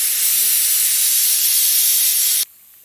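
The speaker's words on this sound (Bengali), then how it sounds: "এইদিকে মাংস সিটি পড়ছে" A pressure cooker lets out one loud, sustained steam whistle while meat cooks, a steady broadband hiss that runs for over two seconds and then cuts off abruptly.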